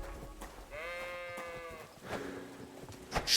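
Sheep bleating in the medieval video game Kingdom Come Deliverance II, one long wavering bleat up close over soft ambient background, followed by a fainter, lower second call.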